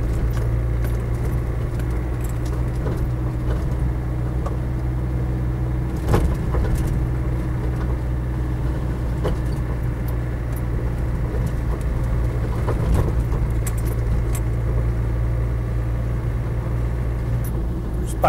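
A Land Rover Defender 110 CSW with the 300TDi diesel and R380 gearbox drives along, its engine droning steadily from inside the cab with occasional light knocks and rattles over the road.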